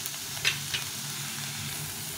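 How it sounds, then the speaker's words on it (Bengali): Pieces of brinjal (eggplant) fry in a pan, giving a steady, even sizzle and hiss throughout, with a couple of light clinks near the start. "বেগুনটা একটু ভেজে নেব, এর মধ্যেই বেগুনটা ভেজে নেব অল্প অল্প করে।"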